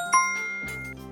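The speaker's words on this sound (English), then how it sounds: "Bell." A single bright bell ding rings out clearly and alone, its tone ringing on and slowly decaying, followed by a lower sustained chime-like tone near the end.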